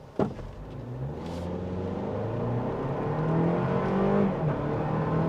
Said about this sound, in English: I'll stop again so you can hear this from a start.